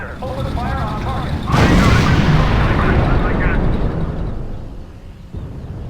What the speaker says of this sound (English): Squad commander, open fire on target.